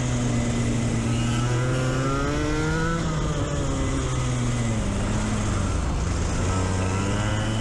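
Racing karts on an outdoor kart track pass by with loud, buzzing small-engine whines that rise and fall in pitch as several machines overlap and go past close by.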